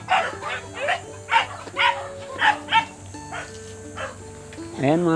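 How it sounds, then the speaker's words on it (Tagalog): Several dogs bark in a rhythmic series of close, loud barks with some yips, heard at a cluttered home while people talk. "ang daming aso"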